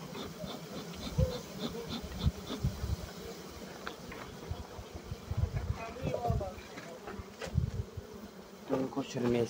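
Honey bees buzzing around a beehive during an autumn hive check for honey and brood stores, a close, steady insect hum with scattered faint knocks and scraping of wood and a person talking intermittently.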